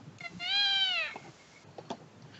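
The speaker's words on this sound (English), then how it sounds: "What? Oh yeah, that's my cat." A domestic cat gives one drawn-out meow, loud and close, followed by a few faint soft sounds and light handling noise in an otherwise quiet indoor room.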